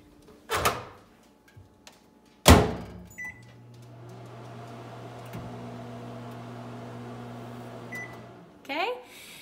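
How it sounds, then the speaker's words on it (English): A kitchen microwave oven: its door thumps open and shut, buttons beep, then the oven hums steadily for several seconds before a final clunk, close and fairly quiet. "And a microwave."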